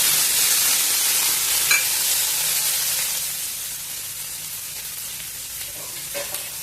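Tomato pieces, tamarind and thinly sliced garlic sizzle steadily in a hot pan for carrot chutney, a continuous loud frying hiss that slowly eases, with no talk.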